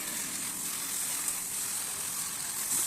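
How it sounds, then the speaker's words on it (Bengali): Broken fish pieces frying in spice masala in a pan, an even close hiss and sizzle throughout with no voices. "ওই ভেঙে রাখা মাছগুলো আমি মশলার মধ্যে দিয়ে ভালো করে কষিয়ে নেব"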